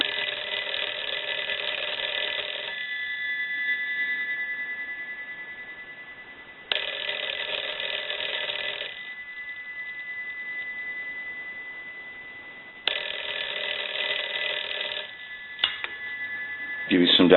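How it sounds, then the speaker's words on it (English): A Western Electric telephone bell rings in long electric bursts, first on the low setting and then on the high, with pauses between rings and a faint voice briefly underneath. "I'm going to ring it on the low setting. I'll stop that and then I'll ring it on the high."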